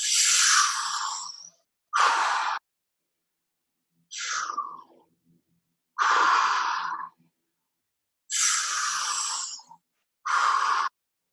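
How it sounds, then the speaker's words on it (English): Deep breathing during a guided breathwork session, six loud, airy breaths alternating inhale and exhale, each lasting about a second or more and separated by short pauses of silence. "Inhale fully. Exhale fully."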